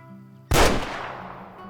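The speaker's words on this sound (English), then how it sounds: "And we destroyed him with that shot" A single loud rifle shot in a hunting video game as an eland is taken down, a sharp crack followed by a long rolling echo that fades, close and alone over quiet game ambience.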